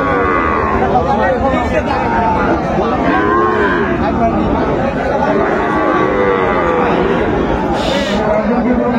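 Sahiwal cattle, including young bulls, moo loudly and repeatedly at a busy Gazipur cattle market, their calls layered over constant crowd chatter and nearby talk.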